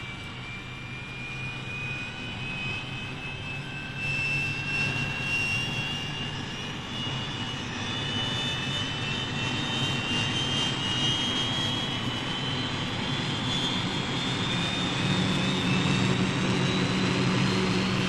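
A fighter jet flies overhead during pilot training with a sustained roaring engine whine that rises slowly in pitch, loud and steady for the whole stretch, with no voices.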